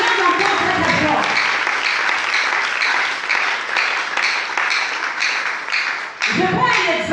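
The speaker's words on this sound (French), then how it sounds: "Acclame encore très très fort." A church congregation applauding loudly, sustained dense clapping at close range, with voices and cheers mixed in and a brief dip near the end.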